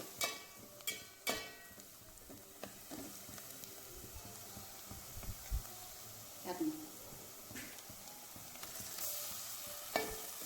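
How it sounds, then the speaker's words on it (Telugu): Curry leaves with ginger and garlic frying in a pan on low to medium flame give a soft sizzle under several spoon knocks and stirring scrapes, fairly quiet, with faint voice sounds. "కొంచెం కరేపాకు అలాగే అల్లం వెల్లుల్లి కూడా యాడ్ చేసి పచ్చివాసన పోయేంత వరకు మనం నీట్గా లో ఫ్లేమ్లో లేదా మీడియం ఫ్లేమ్లో మనం కుక్ చేసుకోవాలండి"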